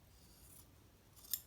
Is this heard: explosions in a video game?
no